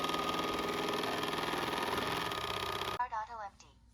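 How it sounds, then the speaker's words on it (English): A robot vacuum's base station auto-empties its dustbin with strong suction, giving a loud, steady motor whir with a rapid buzzing pulse that cuts off abruptly, after which a person speaks briefly. "You may hear some airflow noise from the strong suction power"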